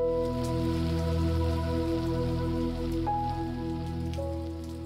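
Steady rain falls on a wet, buggy brook trout stream, a constant close hiss running through the whole stretch with no voices.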